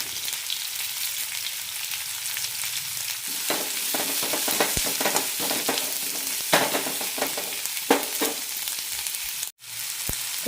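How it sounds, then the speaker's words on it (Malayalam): Sliced onion, shallots, garlic and red chilli fry in hot oil, giving a loud, continuous close sizzle with scraping stirring strokes throughout, briefly cut off near the end. "എണ്ണ ചൂടായിട്ടുണ്ട് ഇതിലേക്ക് സവാള ഇട്ട് കൊടുക്കാം കൂടെ തന്നെ ചെറിയുള്ളി വെളുത്തുള്ളി ചുവന്നമുളക്"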